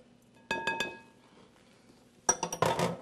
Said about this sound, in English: we're going to transfer this to a larger bowl because we still have to mix those almonds